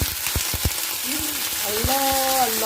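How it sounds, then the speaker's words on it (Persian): Raisins drop into hot oil already used for frying carrots for Afghan qabuli palaw, giving a constant loud sizzle with scattered pops and crackles, plus a brief tonal, voice-like sound near the end. "در همین روغن کشمشا رو میندازم"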